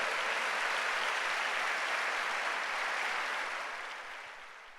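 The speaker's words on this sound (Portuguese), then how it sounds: "Pode aplaudir Jesus." A church congregation at an El Shaddai church congress applauds in a steady, dense wash of clapping that holds for several seconds and then gradually fades.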